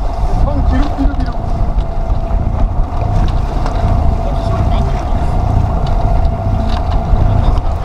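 A sailboat under way with its mainsail hoisted, en route from Port Leucate toward Banyuls-sur-Mer, with steady loud wind rush and hull-water noise filling the clip continuously, close to the microphone.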